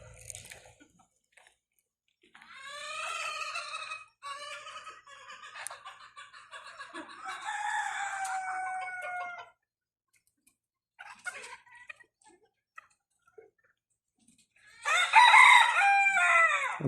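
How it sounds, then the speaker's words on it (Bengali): Many chickens on a poultry farm set up inside a workshop, with roosters crowing repeatedly and hens clucking, in several loud bursts separated by short quiet gaps. "অনেক মুরগি এখানে।"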